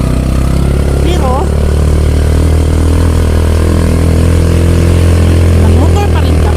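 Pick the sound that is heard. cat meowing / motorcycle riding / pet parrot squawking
motorcycle riding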